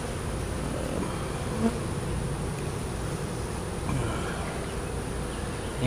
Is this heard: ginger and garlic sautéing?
no